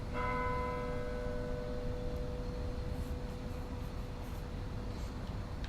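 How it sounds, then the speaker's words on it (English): Church bells in the video game Vampyr strike the hour with one resonant toll that rings out and slowly decays over a steady hiss of background noise, with faint higher chimes later. "These bells are a lie."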